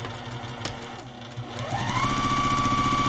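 A sewing machine, its light covered, stitching fabric for a bowl organizer, starts up partway through and settles into a steady, close whirring run after a brief pause and handling noise.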